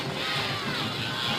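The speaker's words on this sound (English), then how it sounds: "crowd getting to their feet to make some noise" Spanish Fort supporters at a high school football game against Blount rise and cheer, a broad, steady roar of distant crowd noise with shouting blended in throughout.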